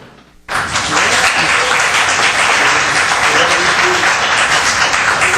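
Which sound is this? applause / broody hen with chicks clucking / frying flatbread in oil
applause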